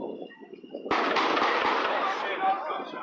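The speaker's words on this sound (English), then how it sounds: "Those were actual gunshots." After a quiet moment, a burst of loud real gunfire erupts on a city block with several rapid, sharp cracks that echo and slowly fade.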